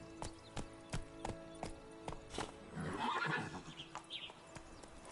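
Roach, the horse in The Witcher 3, gallops with regular, crisp hoof clops, then lets out a loud neigh in the middle before the hoofbeats resume, with no talking.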